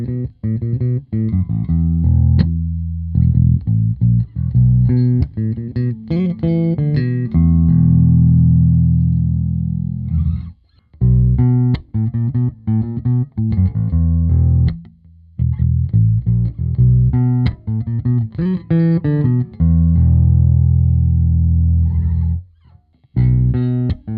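Bass guitar played through an amplifier and captured by a JTS NX2 microphone, a loud, distorted effected tone in bursts of notes and riffs with short pauses between phrases.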